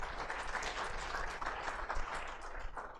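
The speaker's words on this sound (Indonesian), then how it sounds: "Tepuk tangan buat semua profesional di sini" Applause from an audience at a CEO talk on collaboration, a fairly quiet, even wash of clapping from a seated crowd heard at a distance throughout.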